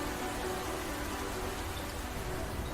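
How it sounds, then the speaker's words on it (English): Light rain falls at Ningbo Zhoushan port, a steady, even hiss of drizzle that stays faint and unbroken throughout, with no voices. "我记得那天下着细雨"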